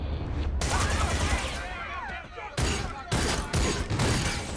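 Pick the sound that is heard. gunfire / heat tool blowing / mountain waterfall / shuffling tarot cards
gunfire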